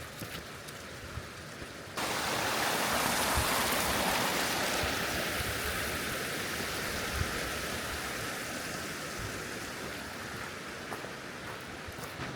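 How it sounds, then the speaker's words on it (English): Raging, rocky river rapids near Cedar Falls at Petit Jean State Park, Arkansas, rush in a steady, dense roar that swells louder after the first couple of seconds and stays constant, with no voices. "There is absolutely nothing better than a rocky trail above a raging, rapidy river."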